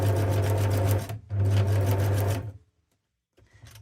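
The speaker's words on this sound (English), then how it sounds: "Yeah, I'm going to stitch across." Sewing machine stitching across fabric while making snippet rolls: two loud, steady whirring runs with a short pause between them, then the motor stops and a faint handling noise follows.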